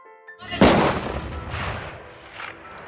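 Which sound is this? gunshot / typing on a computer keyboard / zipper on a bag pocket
gunshot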